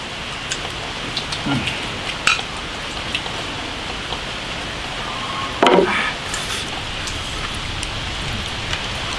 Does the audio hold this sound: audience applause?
no